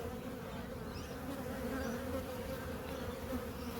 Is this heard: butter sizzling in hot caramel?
no